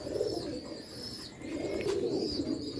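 Sialkoti pigeons coo softly in low, throaty bursts, with faint chirps and some background noise around them.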